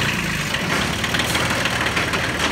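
A US Small Farm Equipment Co. custom wide long potato digger with a picking table, its engine running at a steady idle, loud and close with a continuous broadband rumble and no talk.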